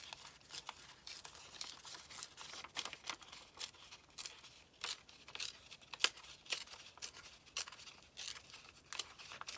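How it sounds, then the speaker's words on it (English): Paper is torn by hand in a run of quick, close, dry rips and crinkles, repeated in short bursts at an irregular pace and fairly quiet overall. "And then I'm going to tear this"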